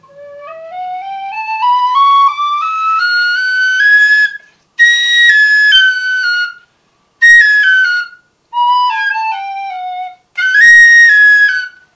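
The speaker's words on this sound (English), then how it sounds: "I'll make a run up and you can hear it on the scale." An ebony tin whistle climbs steadily up a scale, then plays several shorter phrases separated by brief pauses, clear and bright with nothing else around it.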